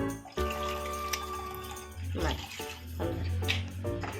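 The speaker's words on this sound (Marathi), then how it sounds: "पाणी थोडं जास्त टाकलंय." Water poured into a cooking pan while making a Maharashtrian drumstick and brinjal curry, a soft, steady splashing stream with light trickling, quiet and close.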